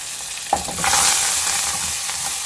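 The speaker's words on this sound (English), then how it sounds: "in goes our curry leaves, finely chopped curry leaves and methi" Finely chopped curry leaves and methi hit hot oil with a sudden splash, then break into a loud, close, continuous sizzle that slowly settles. No one speaks.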